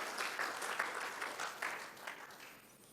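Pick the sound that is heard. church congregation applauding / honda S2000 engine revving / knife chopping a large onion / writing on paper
church congregation applauding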